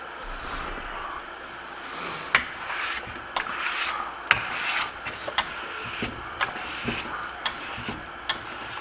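A steel trowel burnishing Venetian plaster on a wall, rubbing and compressing the surface with a continuous rasping scrape broken by sharp ticking clicks at irregular intervals, close and alone.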